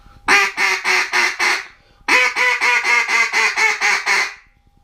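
Ma Barker duck call blown hard with heavy air, giving coarse, raspy quacks: a run of five loud quacks, a short pause, then a longer run of about nine, close and with no talk.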